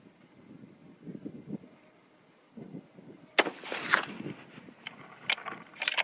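A single sharp, loud rifle report from a hand-loaded 140 grain cartridge cracks out mid-clip over gusty wind noise, trailed by rustling and a few smaller clicks and knocks.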